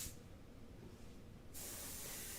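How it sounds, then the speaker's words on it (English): An airbrush sprays background paint in a steady, close hiss that grows brighter and louder partway through. "here I'm spraying on the background"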